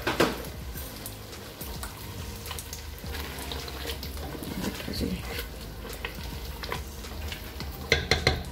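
Around 3 to 4 tablespoons of coriander is fried and stirred in a pan for aloo baingan curry, giving a soft continuous sizzle broken by irregular scraping and clinking of a spoon against the pan, with voices at times.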